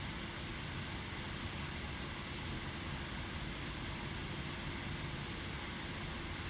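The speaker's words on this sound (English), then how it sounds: "the fans for this will start to ramp up sometimes even doing light tasks. And when under load, it just sounds like a jet engine." Cooling fans in an Asus S510U ultrabook laptop under load produce a steady, loud, broadband whoosh like a jet, constant and unbroken throughout with no speech.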